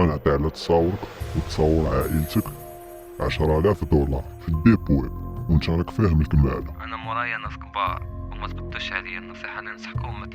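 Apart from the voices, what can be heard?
No everyday noise stands out behind the speech.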